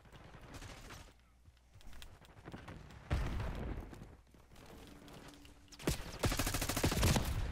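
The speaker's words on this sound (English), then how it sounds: "Shooting at the dead body." Bursts of Black Ops 6 gunfire, rapid automatic volleys and sharp cracks coming in uneven clusters, quieter stretches between them and the heaviest firing near the end, no voices.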